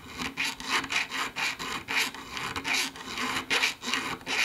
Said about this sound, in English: Coarse needle files are great to form the cutout inside of the bezel.